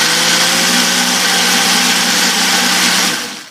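A Ninja blender blending chickpeas, a loud steady motor whir with a constant high buzzing tone, running close and unbroken before spinning down and cutting off at the end.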